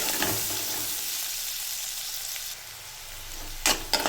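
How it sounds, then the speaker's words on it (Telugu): Garlic cloves frying in oil in a pan for butter chicken, a steady sizzling hiss that eases slightly, with a couple of brief scraping stirs near the end, close and alone. "ఇప్పుడు ఒక 6 వెల్లుల్లి పొట్టు తీసి ఇలా వేసుకోండి. ఇప్పుడు ఇది కొద్దిసేపు ఫ్రై చేసుకుందాం."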